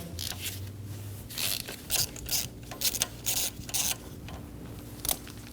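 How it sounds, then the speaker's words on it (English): A socket wrench ratchets a spark plug loose on a 2012-2022 Volkswagen Passat 2.5L five-cylinder, giving short bursts of clicking and scraping in an irregular rhythm, close and fairly quiet over a low background hum. "Using a 16mm socket, remove the spark plug."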